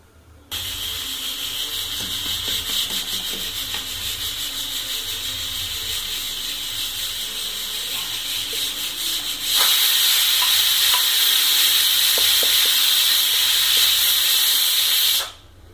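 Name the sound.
pressure cooker whistle while cooking chicken curry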